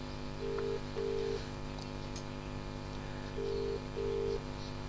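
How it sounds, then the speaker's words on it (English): A telephone ringing tone sounds on a line in a radio studio, four short double-burst rings evenly spaced over a steady background hum. "Hey, it's ringing."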